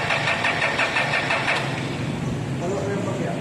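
A Toyota Innova diesel engine cranks and catches after running out of fuel, a rough, pulsing churn that settles toward idle. Voices talk over the engine.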